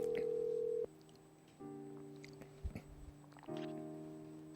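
A phone call is connected live on a church counseling broadcast: steady dial tones and ringback beeps sound in separate blocks, broken by a few clicks of handling noise.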